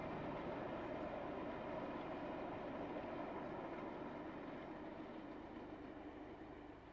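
A Class 25 diesel locomotive hauls a train of oil tank wagons toward Stanlow in the UK, a steady heavy engine drone and rolling rumble that holds even and loud throughout and eases off slightly at the end.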